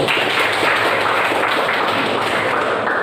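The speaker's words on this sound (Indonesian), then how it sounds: "tepuk tangan dulu untuk Budi" Students in a classroom applauding a classmate, continuous dense clapping, close and fairly loud, with no talking.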